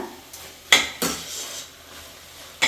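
Spoon clinking against a pot while cumin powder, coriander powder and spices are mixed in, a few sharp metallic knocks spaced over a couple of seconds with quiet scraping between, close and moderately loud, no voices.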